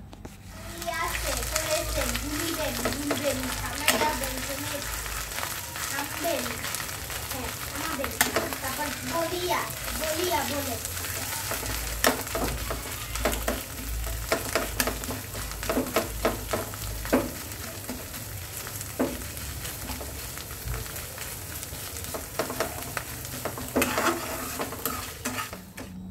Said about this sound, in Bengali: এখন সুন্দর করে এটাকে আর কি নাড়াচাড়া করে বানিয়ে নেব ভর্তাটা